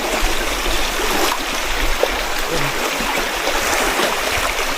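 Water from a natural spring flows in a steady, close, rushing wash with a continuous bubbling texture and no pauses.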